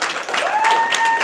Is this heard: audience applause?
yes